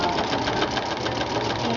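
A sewing machine stitches through plastic with a fast, continuous mechanical chatter of the needle at a steady rapid rhythm, loud and close.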